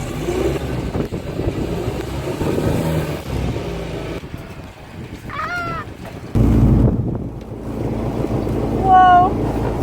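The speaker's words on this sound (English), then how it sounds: "So we're here at the South Beach Harbor in San Francisco" Wind and water at a boat dock in South Beach Harbor, San Francisco, a steady rushing wash with a louder gust partway through, while a voice talks and faint squeaky chirps come and go.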